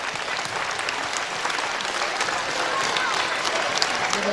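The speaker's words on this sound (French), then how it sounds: "je vous demanderai qu'on puisse les applaudir" An audience at a national mini-basketball day event applauds the referees, a dense, steady wash of clapping that holds evenly throughout, with a voice faintly audible beneath.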